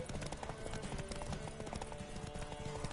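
Quick, steady hoofbeats of a horse trotting clip-clop along in the video game The Witcher 3, fairly close, with a continuous low background underneath.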